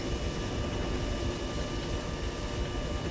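An Arma 3 helicopter drones steadily and loudly, with a continuous engine and rotor roar holding at a constant level throughout.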